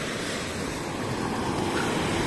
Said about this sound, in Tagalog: Maalon po. Sobrang alon.